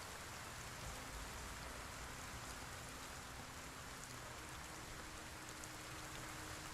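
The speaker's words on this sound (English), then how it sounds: "Well, rain's picking up again." Steady rain pours down in Project Zomboid, a dense, even hiss of drops on surfaces that stays constant and close throughout, with no voices.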